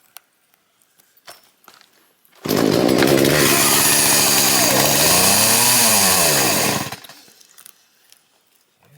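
A chainsaw with a faulty choke starts abruptly, runs loud and close for about four seconds with its pitch wavering and sagging, then cuts out, leaving quiet rustling and faint footsteps.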